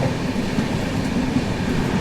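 The Hatia - Pune SF Express, an Indian passenger train, rumbles steadily along the rails with a rhythmic clatter of wheels, heard from on board with no voices.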